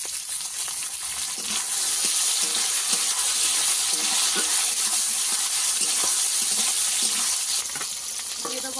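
Chopped tomatoes hit hot oil in a pan for a Bengali dried fish curry with potato, eggplant and beans, giving a loud, continuous sizzle with a few soft stirring scrapes.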